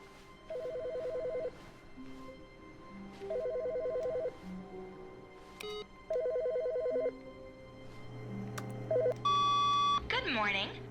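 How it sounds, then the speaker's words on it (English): Telephone ringing in The Stanley Parable video game: three evenly spaced electronic ring bursts, each about a second long, followed by shorter beeps and tones, with speech present. "Whose phone is ringing?"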